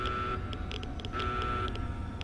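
Alarm blaring in the Wheaton Armory in Fallout 3, a steady electronic tone with repeating high beeps pulsing over a constant low hum, loud and continuous throughout.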